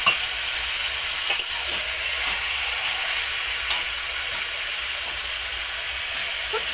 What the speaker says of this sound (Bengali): আর এখানে মাংস কষা হচ্ছে।